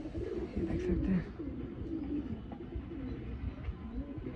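Pigeons cooing at a seller's loft where a Jeeriya male pigeon is offered, steady low throaty coos rising and falling close by, continuous with no talk.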